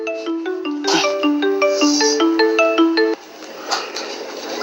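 A phone rings unanswered with a repeating melodic ringtone, loud and close, playing several cycles before cutting off abruptly into quieter room sound.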